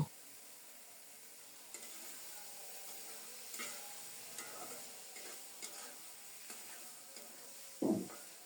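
Dried lotia fish fries in a spice paste with eggplant to follow, a faint low hiss broken by soft spatula scrapes and a sharper knock of the utensil toward the end.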